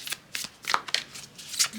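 Tarot cards being shuffled by hand, a quick series of close, crisp riffling flicks in short bursts, with no talking.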